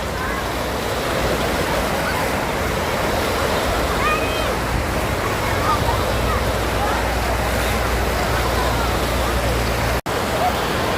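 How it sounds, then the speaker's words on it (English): Waves in the Tidal Wave pool at Mountain Creek water park churn as a steady, loud wash of surf, continuous throughout with a brief abrupt cut near the end. "The wave pool at Mountain Creek is called tidal wave."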